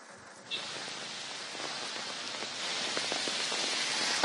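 Heavy rain falling in Bengaluru: a soft hiss that starts quiet, jumps up after a moment and keeps building into a dense, steady wash of drops with no talking.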